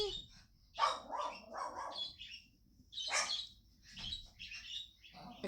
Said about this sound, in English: Apparently my dog wasn't happy about it.